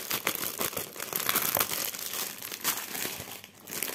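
Plastic parcel pouch holding a cross-stitch kit being opened, with steady crinkling and crackling of thin plastic for several seconds, close to the microphone, with no voices.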